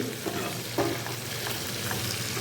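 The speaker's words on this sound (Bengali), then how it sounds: "পেঁয়াজ আর ক্যাপসিকাম অল্প অল্প ভাজা হচ্ছে" Onion and capsicum fry lightly in a pan with a little salt, a soft continuous sizzle broken by a few brief spatula scrapes and stirs, close and moderately quiet.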